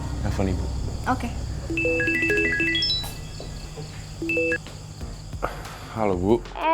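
An incoming call sets off a phone ringtone, a bright electronic melody of stepped beeps that rises and falls through several short phrases, with people talking around it and light movement sounds.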